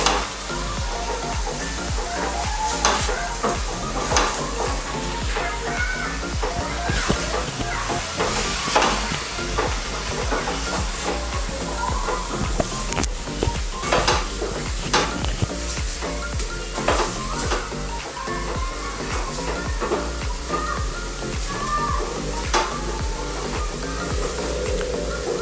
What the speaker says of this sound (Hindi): देखिए पूरा कांदा अभी थोड़ा सा पक रहा है, थोड़ा सा ब्राउन जैसा हो जाएगा